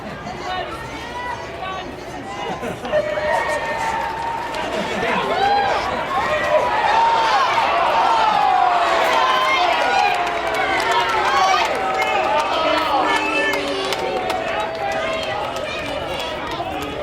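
A baseball stadium crowd reacts to a call at Reno Aces Stadium, a loud swelling babble and clamor of many voices, rising in the middle and staying busy throughout.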